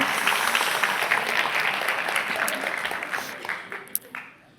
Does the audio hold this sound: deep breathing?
no